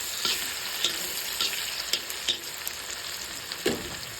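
Oil sizzles steadily with onions frying for a meat dish, broken by a few sharp stirring clicks and scrapes of a utensil against the pan.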